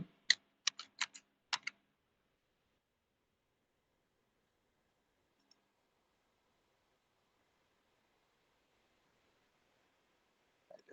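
A short burst of keystrokes on a computer keyboard, a quick run of crisp clicks lasting under two seconds, close and clear, followed by near silence and one faint tap near the end.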